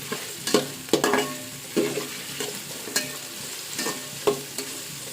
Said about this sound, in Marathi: कांदा पण छानपैकी तेलामध्ये परतून घ्यायचा